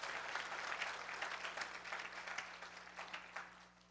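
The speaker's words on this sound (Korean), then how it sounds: "하나님께 영광의 박수 올려드리겠습니다" A congregation claps for glory during a church revival service at a New York church, producing dense, steady applause that fills the room for the full four seconds with no voices over it.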